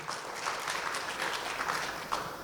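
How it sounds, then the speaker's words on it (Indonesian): Audience applause at an evening event honouring a community group, a steady wash of many hands clapping at moderate level, fairly even with small swells throughout. "Tepuk tangan buat Sohibul Mal Community."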